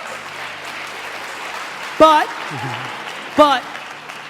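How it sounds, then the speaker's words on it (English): An audience claps in a steady wash of applause, while a voice speaks over it in two brief bursts. "There's the parents clapping."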